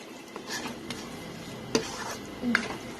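A lid set onto a cooking pot of aloo keema being simmered until the potatoes soften, giving a couple of light metallic clinks and a soft scrape against a quiet kitchen background.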